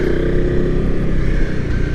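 Honda CRF 250 Rally motorcycle riding along a dirt road, its engine droning loud and steady throughout with a low, even rumble and faint clatter.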